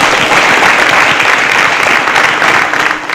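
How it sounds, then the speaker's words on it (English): A quiz show studio audience breaks into loud, close applause for two contestants, a thick burst of many clapping hands that holds steady and then starts to taper at the end. "A round of applause for them."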